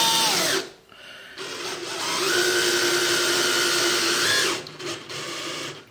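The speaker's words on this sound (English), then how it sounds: "we're going to go ahead and get these guys screwed on" Power drill driving screws into a wooden coat rack, a whining motor that runs in two bursts with a short pause between them, each rising in pitch as the screw seats, close and fairly loud.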